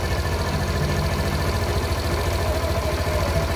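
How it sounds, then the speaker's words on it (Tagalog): A Suzuki Burgman Street 125 scooter engine idles after a cold start, following three years without proper maintenance and an idle speed control issue; a steady, even low throb running close and constant. "Tahimik na yung makina."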